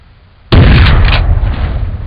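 A gunshot fires in the video game Jurassic Park Trespasser, a single sudden loud blast that cuts in after a quiet moment and rings out in a long, heavy decay.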